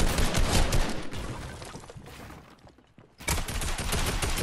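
Sniper and other gunfire in an online shooter video game, with bursts of loud overlapping shots, a quieter lull, then heavy firing resuming near the end.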